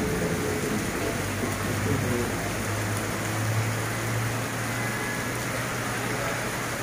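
Heavy rain pours steadily over Acapulco during Hurricane Nora, a dense, constant hiss with a low rumbling hum underneath, loud and unbroken throughout.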